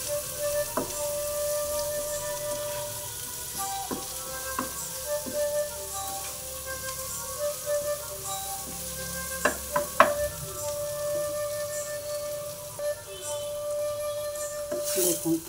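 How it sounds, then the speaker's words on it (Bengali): Onions fry in hot oil with turmeric and chili powder for an egg dahi curry, giving a steady close sizzle with scattered pops and utensil taps throughout. "দিয়ে এটাকে আমি লাল করে ভেজে নেব"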